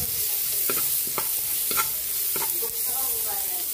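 Ginger and garlic frying in rendered pork fat, a steady close sizzle with several light stirring scrapes of a utensil against the pan.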